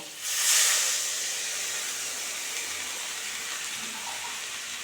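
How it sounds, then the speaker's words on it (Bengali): Water hits a hot pan while a Bengali fish curry of chela fish cooks, bursting into a loud hiss of steam that settles to a steady, quieter sizzle. "এখন জল দিয়ে দেব"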